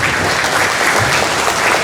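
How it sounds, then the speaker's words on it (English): Loud, dense applause at a football academy launch, close and continuous through the whole clip. "I think it's a round of applause"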